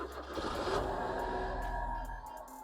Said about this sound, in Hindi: मैं यहाँ पर गाड़ी को चालू कर दूँगा।